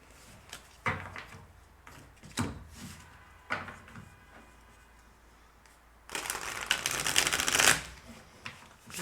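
Tarot cards are shuffled in several quick riffling bursts, a few short rustles early on and then a longer, louder flurry of shuffling near the end, close and clear with no talking.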